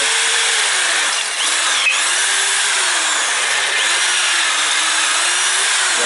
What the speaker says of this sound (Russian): Сверло не затягиваем, чтобы если вдруг провернется, чтобы не обломилось.